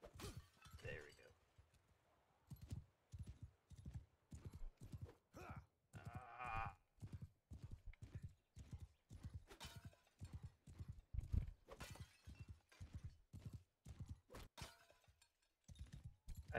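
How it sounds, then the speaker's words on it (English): Horse hooves clip-clop steadily in a video game, a quick regular rhythm of close, crisp hoofbeats running throughout, with a brief whinny partway through and someone talking over them. "Oh, mount the horse."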